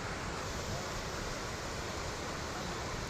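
Constant broadband roar of a waterfall, close and loud, with water rushing down steadily and no break or talking over it.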